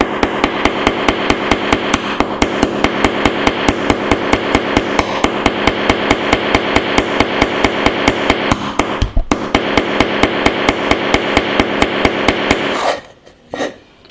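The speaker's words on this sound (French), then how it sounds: "On va taper donc avec le rebord du cadre" The metal frame edge of a Vkworld VK700X smartphone hammers nails in a fast, steady run of loud, sharp, evenly spaced metallic knocks lasting about thirteen seconds, then stops with a few faint scrapes.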